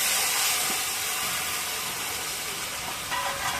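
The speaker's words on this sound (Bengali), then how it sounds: "দেওয়ার পর ওই তেলে দিয়ে দিচ্ছি সিদ্ধ করে রাখা লাউ আর আলু।" Boiled bottle gourd and potato dropped into hot oil seasoned with nigella seeds and green and dried chillies give a loud, steady hiss of frying that fades slightly and holds throughout.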